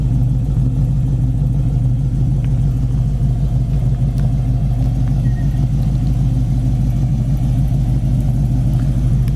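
A yellow 1969 Ford Mustang Mach 1 with dual exhaust idles nearby, a loud, steady low rumble that holds even throughout with no talking.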